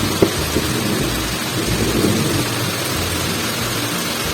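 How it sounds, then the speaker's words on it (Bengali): Heavy rain pours down steadily with rumbling thunder beneath it during a storm with lightning, a dense, loud and continuous wash of sound with no voices. "বৃষ্টি হচ্ছে, সেই সাথে প্রচুর মানে বিদ্যুৎ চমকাচ্ছে"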